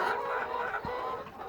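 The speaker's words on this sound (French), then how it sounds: "On est avec la bande de 50 cocottes là." A flock of about fifty laying hens in a professional poultry building clucks and murmurs continuously in a close, busy chorus, with no talk.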